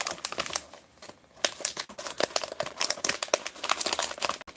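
Plastic wrapping on a trading card repack crinkles and crackles in irregular bursts, close and fairly quiet, with brief pauses between handfuls.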